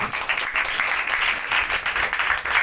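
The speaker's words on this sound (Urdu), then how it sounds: "آئے زوردار تالیاں خدا کے جناب" A church congregation applauds loudly in praise of God after a sermon, a continuous, fairly close clapping texture with slight swells that runs throughout.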